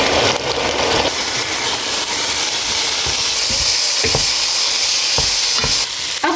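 Minced keema frying in hot oil in a home kitchen while being cooked for noodles, a steady close sizzle with scattered stirring scrapes and knocks, no talk.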